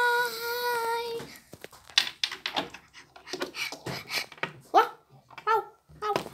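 A dog barks in short bursts between stretches of talk, after a sustained tonal sound at the start.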